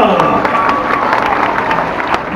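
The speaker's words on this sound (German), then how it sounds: "Einen riesengroßen Applaus bitte schön nochmal" Crowd clapping and cheering at a zombie-themed water stunt show in Holiday Park, a dense continuous roar of applause and shouts from the audience lasting a couple of seconds.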